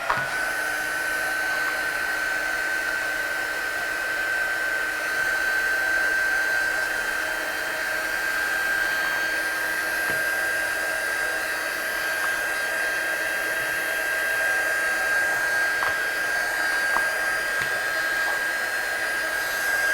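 A hair dryer blows steadily and loudly for the whole stretch, drying watercolour paint on a stamped card, its motor whine constant and close with no talking.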